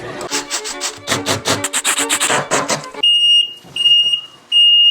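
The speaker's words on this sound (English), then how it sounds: "I really gotta get that beeping stopped." After a burst of rhythmic clattering, a loud electronic alarm in a golf cart converted to a camper beeps in three long, steady tones with short gaps between them.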